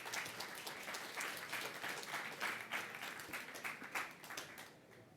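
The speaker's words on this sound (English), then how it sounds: "A round of applause for everyone." Audience applause at a London startup pitching event fills the room: dense, steady clapping from many hands that stays at a constant level, then starts to thin at the end.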